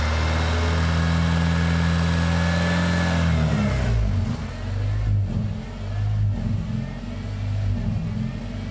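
A Honda car engine revs loud and high under throttle for a few seconds, then falls back to a rougher, lower idle with small blips.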